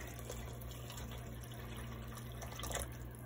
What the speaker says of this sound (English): And then I just add water.